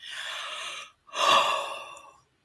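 Two long, breathy yawning exhales during Kundalini-style meditation breath work, each lasting about a second with a short pause between, close and fairly loud with no talking.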